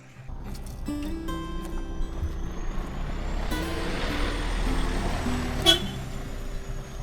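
A truck on a road near Pokhara sounds its horn in short toots as it rolls past, engine rumble and air-brake hiss rising and fading nearby, with no talk.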